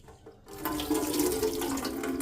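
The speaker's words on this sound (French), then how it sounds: "Je mets de l'eau." Water pours from a tap into a bowl to rinse rice for onigiri, a sudden steady splashing gush that runs on continuously, close and without talking.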